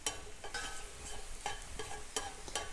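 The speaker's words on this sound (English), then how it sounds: "Stir fry." Shiitake mushrooms stir-frying in vegetable oil in a pan, a soft steady sizzle broken by several sharp scraping stirs at irregular intervals, close and fairly quiet, with no talking.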